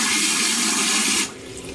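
A cloth diaper sprayer blasts a strong, hissing jet of water for just over a second before cutting off abruptly, leaving a faint residual trickle.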